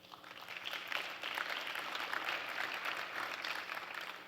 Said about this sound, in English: We're all cheering as somebody's leaving.